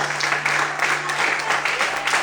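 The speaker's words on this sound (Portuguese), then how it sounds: "dá uma glória a Deus bem alto e aplauda o Senhor essa noite." Church congregation applauding the Lord during an evening sermon, continuous dense clapping throughout with a steady low hum beneath.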